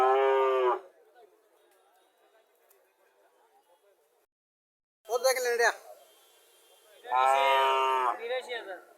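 A local heifer and other cattle at a village livestock market in Chauddagram, Comilla, moo loudly and close in three long, throaty calls with quieter gaps between, while faint chatter murmurs in the background.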